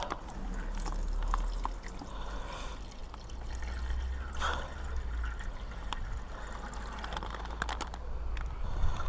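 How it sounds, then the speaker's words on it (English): Water trickles and drips steadily from a leaking water-filled bag outdoors at an allotment, with faint irregular splashes and ticks over low background rumble and no speech. "I filled the bag up with water, and we've got a leak"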